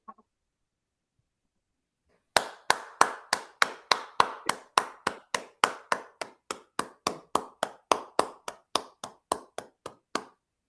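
Crowd of people clapping at a church inauguration ribbon opening in Pakistan, a burst of roughly thirty sharp, fairly even claps starting after a quiet pause, close and distinct.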